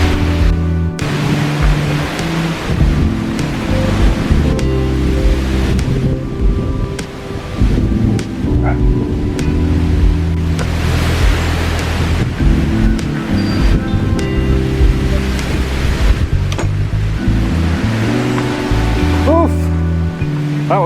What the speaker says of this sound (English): God, it's breezy up here.